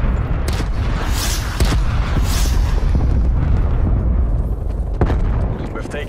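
Cruise missile strikes explode in Call of Duty: Black Ops Cold War team deathmatch, heavy rumbling blasts rolling over one another with several sharp bursts, loud and continuous, with game voice callouts mixed in.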